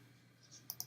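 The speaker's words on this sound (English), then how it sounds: "And I'll click on the export button." Two quick mouse clicks, close and crisp about a tenth of a second apart, against a faint low room hum while exporting an OBJ file from Maya.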